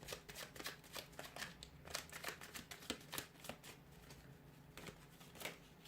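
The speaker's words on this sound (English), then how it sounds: "We'll go ahead and give the cards a shuffle." Tarot cards being shuffled by hand, a run of quick papery riffles and soft flicks in an irregular rhythm, close and faint, with no talking.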